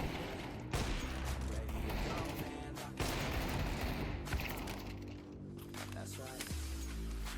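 Rapid automatic gunfire in the video game Counter-Strike 2 (CS:GO 2), dense bursts of shots layered with booming impacts across the whole stretch, with a player talking over the action.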